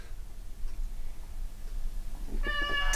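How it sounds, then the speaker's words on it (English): A hungry cat gives a single clear meow near the end, close and fairly loud, after a quiet stretch of soft room noise. "Mog keeps meowing, he's very hungry"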